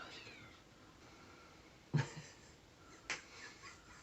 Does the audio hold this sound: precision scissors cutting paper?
no